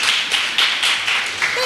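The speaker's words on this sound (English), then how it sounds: "Everybody needs a clap." Audience at a Newmarket community awards evening clapping, a close, loud run of hand claps in uneven bursts with small groups of claps swelling and dipping, with a brief voice near the end.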